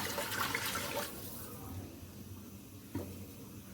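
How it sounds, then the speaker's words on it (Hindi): Water pours into a cooking pot of chickpeas and soaked rice for chana pulao, a steady rushing splash for about a second that then drops to a low simmering hiss, with a small clink near the end. "अब मैं इसमें पानी डाल दूँगी।"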